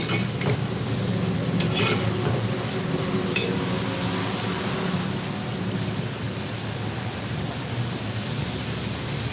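Onion fritters (piyaji) deep-frying in hot oil on a rainy day, giving a steady, dense sizzle with soft stirring clatter, close and continuous.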